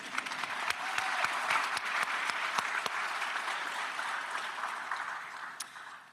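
Applause from the audience at a graduate and professional school awards ceremony, a steady wash of many hands clapping with a few sharper claps standing out, moderately loud and sustained throughout.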